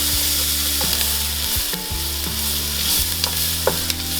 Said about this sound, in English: I'm gonna melt this 1 tablespoon of butter